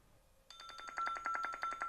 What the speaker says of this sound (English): There's a call coming.